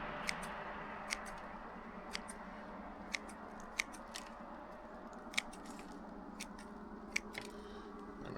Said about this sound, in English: Let's cut it in half. We're going to cut half the root system down.